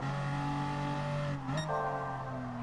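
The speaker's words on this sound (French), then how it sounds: "franchement, elle a un bon bruit cette voiture" A race car engine in Gran Turismo Sport revs steadily, then its pitch drops and climbs again as it shifts, loud and close with no one talking.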